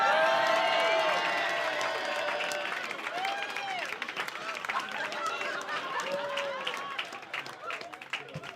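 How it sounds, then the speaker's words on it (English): A comedy club audience applauds and cheers at a live stand-up show, with sustained clapping and whoops that fade gradually while voices carry over the crowd. "Give him a round of applause"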